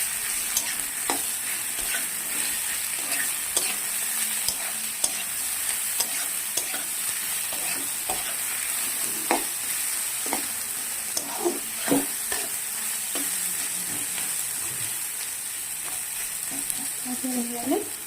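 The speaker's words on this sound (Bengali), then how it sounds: "নুনটা দিয়ে আমি একটুখানি নাড়িয়ে দিলাম।" Onion and potato fry in a pan while being stirred, a steady close sizzle broken by repeated scraping and clinking strokes from the utensil, with no talk.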